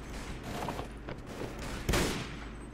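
Massed musket volleys in the Warband Red Wars mod, a dense crackling fusillade of overlapping shots rolling continuously at mid distance, with one heavier report standing out near the end.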